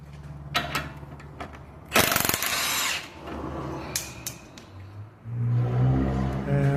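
Power tool whirring briefly as bolts are backed out of a worn steering stabilizer shock on a 2007-2011 Jeep Wrangler, one strong burst in the middle among scattered clicks and clanks of work nearby.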